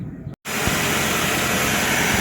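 A steady, dense Toyota RAV4 engine rumble runs continuously at close range after a brief cutout, with a broad hissy texture over a low idle drone.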